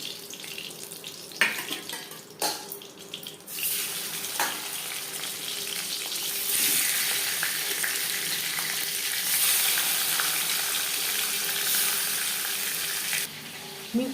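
Pieces of chital fish sizzling in hot oil in a pan for a mustard-paste curry, a steady close hiss that swells midway, with a few clinks and scrapes early on.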